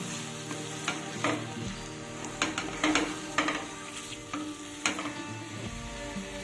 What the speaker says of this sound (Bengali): আর চিংড়ি মাছটাও এর সাথে মিশিয়ে দেবো